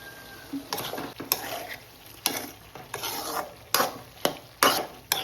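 Bitter gourd with vinegar being sautéed in a pan over medium flame, a spoon scraping and stirring in repeated sharp strokes about once a second over a soft sizzle, close and clear, no talk.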